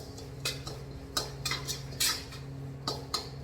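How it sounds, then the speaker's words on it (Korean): A spoon stirs kimchi seasoning of chili flakes and fish sauce, making sharp irregular clinks and scrapes against the bowl, close and fairly loud, with no talking. "액젓을 5테이블스푼, 다섯 테이블스푼 넣어주시고 한번 저어주세요."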